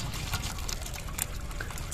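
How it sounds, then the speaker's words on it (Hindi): Faint trickling and splashing of bitter water being drained from boiled vegetables in a village kitchen, soft and continuous with no talk. "अब इसे इसका कड़वा पानी निकालेंगे"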